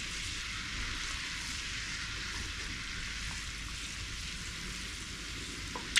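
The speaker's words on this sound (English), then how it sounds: "Let's bring this up to a simmer" Sauce simmering in a pan for a salmon and pasta dish, a steady close bubbling hiss that runs unbroken throughout, with a faint clink near the end.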